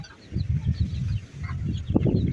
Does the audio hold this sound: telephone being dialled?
no